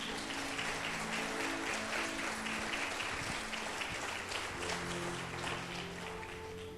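Audience in a church breaking into sustained applause, a dense even wash of clapping that fills the whole stretch with steady loudness and no voices on top.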